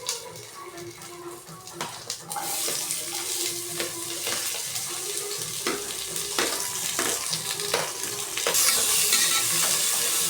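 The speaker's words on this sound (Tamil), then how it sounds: "வெங்காயம் நல்லா வதங்கட்டும்." Onions sauté in a pan with a continuous close sizzle and hiss, broken by scraping stirs and clinks, and the frying grows louder near the end.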